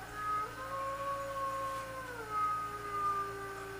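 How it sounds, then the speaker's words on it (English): Several dogs howl together in long, wavering tones that rise and fall, heard from some distance over a faint background hum. "Listen there, the dogs are howling."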